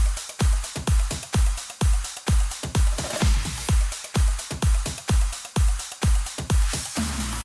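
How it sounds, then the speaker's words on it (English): Full drum pattern from an electronic dance music drop: punchy, booming kicks land on a steady four-on-the-floor beat beneath bright hats and claps, loud and continuous with no talking. "So altogether, the drop drums sound like this."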